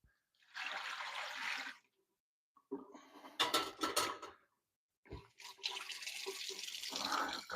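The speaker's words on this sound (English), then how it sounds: "Now I'm going to fill this" Cold water from a tap runs into a home brewing container in bursts: a steady rushing fill, then a clattering stretch, then another longer fill with no talking.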